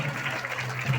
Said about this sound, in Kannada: ಜೋರಾದ ಚಪ್ಪಾಳೆಯನ್ನು ಹಾಕಬೇಕು